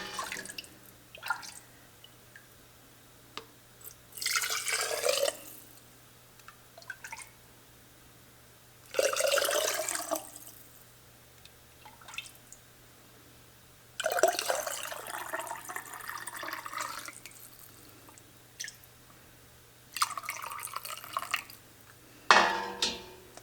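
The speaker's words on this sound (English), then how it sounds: "So now we're going to start filling the jars." Chicken stock poured into canning jars in several separate bursts, each a few seconds of liquid splashing and filling, with quiet pauses between pours.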